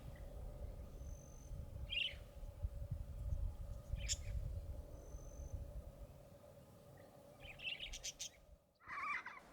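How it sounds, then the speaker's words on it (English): Budgerigars come in to drink at an early-morning waterhole in inland Australia, giving scattered faint chirps and short calls over a low, steady outdoor background. "Budgies are in for an early morning drink."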